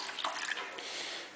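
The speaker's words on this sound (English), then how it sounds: "We just take it and pour it in there gently." Water poured gently from a one-cup measure into a container for making coffee, a short soft splashing trickle that tapers off over about a second, faint and alone.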